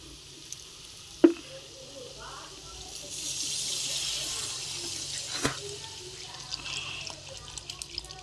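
Water is poured into a pan of simmering curry where the oil has separated, raising a broad splashing, sizzling rush midway that fades into softer bubbling, with a sharp clank early on and quiet background sounds.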